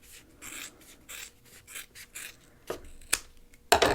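Scissors trim fabric for a double zipper pouch in a series of soft rubbing, rasping cuts, quiet and close, with a few sharper snips near the end and no talking.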